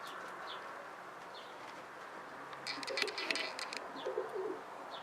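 A 2009 racing pigeon cock coos softly in a loft, giving a few low murmuring coos in the second half over quiet background noise, with faint chirps nearby.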